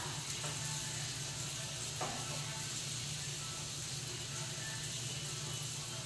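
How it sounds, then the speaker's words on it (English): Canned corn being stirred in a hot pan, a steady sizzle running throughout with faint scraping and a brief clatter near the middle. "Okay, I'm going to add a can of corn. Just dump that in there. Okay. And stir that."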